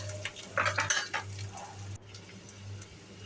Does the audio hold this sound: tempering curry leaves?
yes